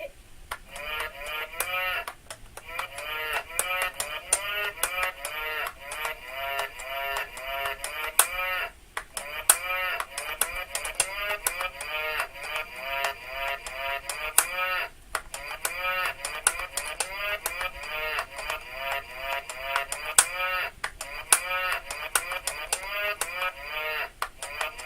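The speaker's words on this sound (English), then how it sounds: "But the one we really like is the cow." Processed, alien-style cow moos repeat in rapid warbling bursts for about 25 seconds. They play alone at low volume with brief pauses between runs.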